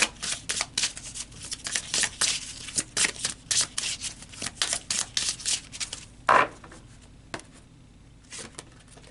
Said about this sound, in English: So let's pull an advice card.